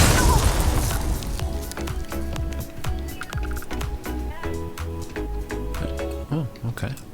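The Negotiator weapon fires in the game Starfield, with booming single shots repeating at a fairly even pace. Someone talks over the gunfire.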